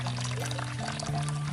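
Water pours steadily from a mini water pump fed by a large gallon container, a continuous close splashing stream with a faint motor hum underneath.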